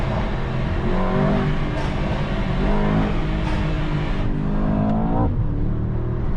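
A 2024 Mercedes-AMG S63 800 hp V8 sedan accelerating hard in first gear, with a loud, continuous engine roar that climbs in pitch and steps through brief changes, heard from inside the car.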